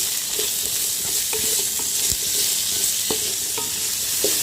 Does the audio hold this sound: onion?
yes